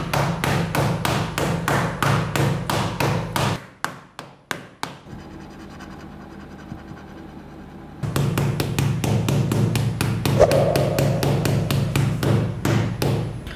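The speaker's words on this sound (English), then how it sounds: "the first test we're going to do is the knife scratching or stabbing test" A knife rapidly stabs and taps a Xiaomi Redmi Note 7 phone screen in sharp, fast clicks. A short pause and a stretch of softer scraping follow, then the quick stabbing returns.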